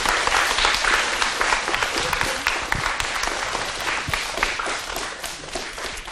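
Sustained applause from a school audience at a commemorative event, dense and steady clapping filling the room from start to finish with no talk over it.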